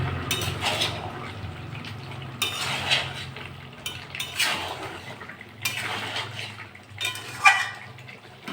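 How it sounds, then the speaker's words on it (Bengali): Chunks of potato and chicken stirred and sautéed in a metal pot, with repeated scraping and clinking strokes of a spoon against the pot and a low sizzle underneath, close and alone without talk. "আলুগুলো দিয়ে আবার একটু কষে নেবো ভালো করে"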